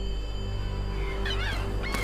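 Seabirds shadowing a killer whale pod in an icy Norwegian fjord give a few quick honking calls late on, over a steady low droning background.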